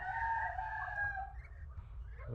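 Chickens with chicks inside a coop, giving loud close clucking and rooster-like calls that run continuously without talk.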